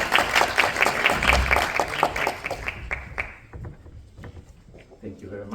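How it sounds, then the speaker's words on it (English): Conference audience claps for a professor taking the stage at a criminal justice event, a dense patter of many hands for about three seconds that thins out, with voices murmuring underneath. "Please let us give applause to Professor Marcin."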